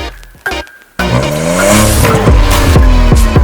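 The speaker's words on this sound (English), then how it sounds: "Let's start by firing up the engine" A Tata Altroz Racer engine cranks briefly, then catches and roars to life, settling into a loud, throaty idle close by.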